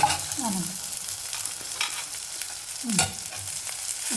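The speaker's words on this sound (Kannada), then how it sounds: "ಈಗ ಉಳ್ಳಾಗಡ್ಡಿ ಹಾಕ್ತೀನಿ." Onion frying in oil in a pan for ridge gourd chutney: a steady sizzle throughout, with the scrape of stirring at the start and again near the end, no talk.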